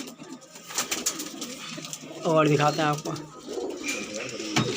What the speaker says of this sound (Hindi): ये कबूतर भाइयों सारे उत्तम नगर के हैं